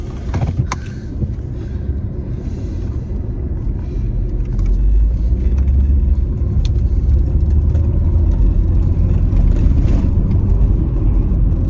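A car engine runs at about 2,500 RPM while driving, a steady droning rumble that grows slightly heavier partway through. It stays loud and close with no talking.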